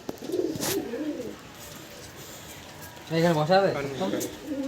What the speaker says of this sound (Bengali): এটা একটা নর পায়রা আর ওই পাশেরটা হচ্ছে ওটার মাদি পায়রা